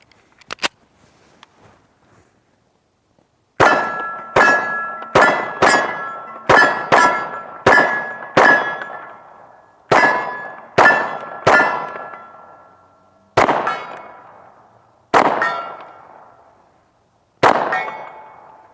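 Handgun shots ring steel targets in a string of about fifteen sharp, loud metallic clangs, each with a bright lingering ring, fired in quick pairs and then more slowly spaced.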